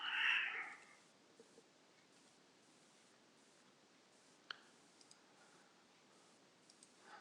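Several sparse, faint computer mouse clicks at a desk, single quiet taps spaced seconds apart over a low background hiss, with a brief louder noise at the very start.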